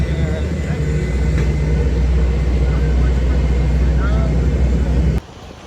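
Steady, loud cabin drone of a Ryanair passenger airplane in flight, a dense low roar that holds evenly for about five seconds before cutting off abruptly near the end.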